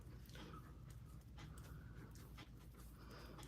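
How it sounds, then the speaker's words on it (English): A pet dog pants and whimpers close by indoors, quick breathy huffs mixed with soft high whines, faint and fairly continuous with no talking. "Here comes my doggy."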